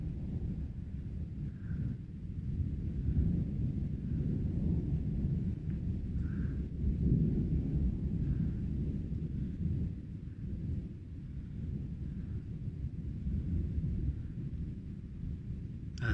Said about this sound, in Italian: Tuoni e lampi.